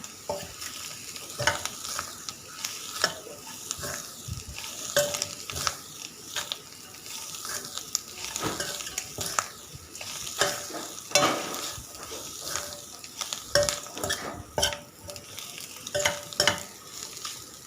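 Cooked clam meat being stirred into masala in a hot pan for kakka fry, with steady scraping and sizzling from a spoon working through the mixture, close and continuous with no talking.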